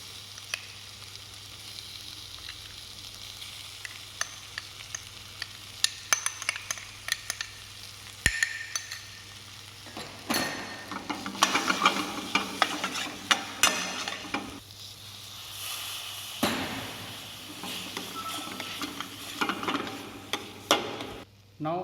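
Soaked, cooked red lentil dal being stirred in a pot for mulligatawny soup, with scraping, clinking stirs and light sizzling in bursts against quiet kitchen background.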